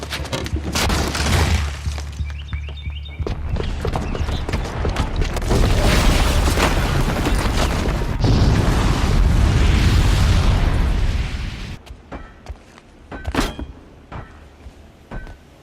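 A bomb's booby trap goes off in Horizon Zero Dawn, heavy booming blasts and rumbling debris rolling through in loud waves, then subsiding into scattered crashes and a final sharp burst.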